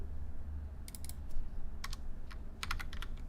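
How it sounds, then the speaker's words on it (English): Someone types code on a computer keyboard in quick, irregular bursts of light clicks. The keys sound soft over a low background hum, with no talking. "I'll type in session.begin session"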